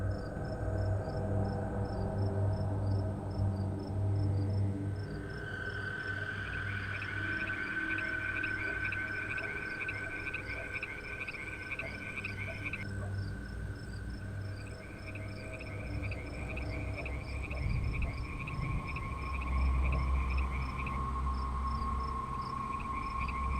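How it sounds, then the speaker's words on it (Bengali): Frogs and crickets call from both sides of a road at night after rain, forming a dense, steady chorus of shrill trills over low croaking pulses that carries on throughout. "রাস্তার দুই পাশে ব্যাঙ ও ঝিঝি পোকার ডাক"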